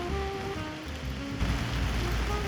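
Rain falls steadily in New York City, a dense continuous hiss and patter outdoors, with low traffic rumble and faint tonal hum underneath.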